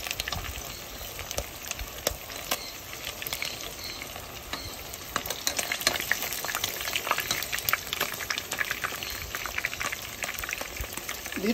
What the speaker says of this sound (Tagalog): Dito ako nagpipirito sa malalim na kasirola kasi para may iwasan yung masyadong matilagsik.